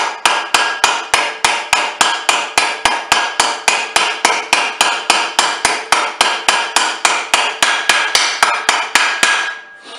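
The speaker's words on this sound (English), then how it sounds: "I'm just tapping the outside of the race." A hammer taps steadily on the outer race of a wheel bearing, some thirty rapid, evenly spaced metallic hits that ring briefly and stop abruptly, loud and close with no talking.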